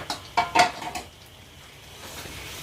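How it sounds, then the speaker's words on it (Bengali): Jaggery being stirred in a pan for a fruit pickle, with a few close scraping clinks of a utensil against the pan early on, then a quiet low background. "গুড়টা একটু ভালোভাবে নেড়ে নিচ্ছি"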